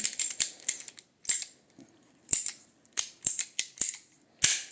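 Scissors snip through a heating pipe to trim a badly cut end, giving a series of sharp, close crunching clicks in irregular bursts with short silences between them.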